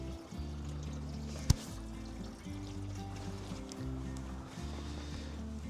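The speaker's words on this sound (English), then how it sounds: "go turn the water spigot on" Water runs from a spigot into an RV's fresh water tank at a dump and refill station, a steady low gurgling fill with one sharp knock partway through.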